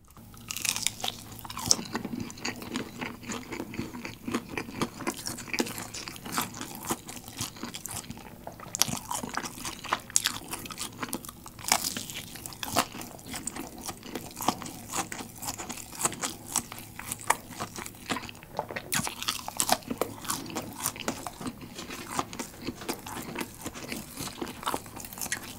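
Crispy fried chicken breast tenders, slightly spicy and moist inside, are bitten and chewed right at the mouth, giving steady loud crunching and crackling over a long stretch with no talk.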